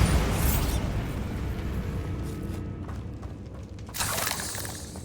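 A Bombarda spell blasting a wooden barricade in Hogwarts Legacy, a loud crashing burst with shattering debris at the start, a rumbling tail, then a second sharp crash near the end.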